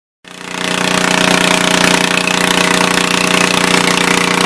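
A 1974 220 car engine catches and runs steadily after fuel pump and tank work, a loud, close, continuous rough chugging with a fast even pulse and no talk over it.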